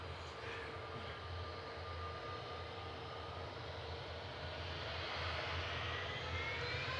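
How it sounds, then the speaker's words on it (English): An EasyJet airliner departs Manchester Airport for Amsterdam, a steady broadband jet roar with a thin whine on top that builds slightly toward the end, heard alone without talk. "EasyJet departing to Amsterdam"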